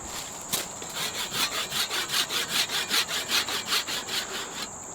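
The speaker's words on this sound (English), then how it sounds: "to harvest this, really just all you need is a basic handsaw." A basic handsaw cuts through a small yard tree in steady back-and-forth strokes, about a dozen rhythmic rasping pulls over a few seconds, close and fairly loud with no talking.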